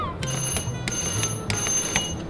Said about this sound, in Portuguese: Mas esse quarto tem uma coisa em particular que lá nos Estados Unidos não tem muito. Campainha.